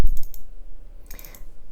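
Computer mouse clicks in DaVinci Resolve's project manager: a quick cluster of sharp clicks at the start, then a quieter pause, then another short burst of clicks.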